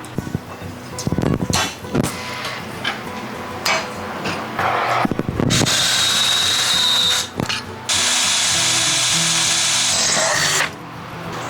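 A power drill bores pilot holes through a steel shock bracket for a 1948 GMC pickup truck, with bursts that get longer and steadier, ending in a sustained close, loud whine with short pauses between holes.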